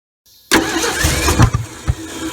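The starter cranks the engine of a 1968 Ford F100 that had sat forgotten in the woods for 20 years, a loud, rough mechanical churning that begins abruptly and continues close by.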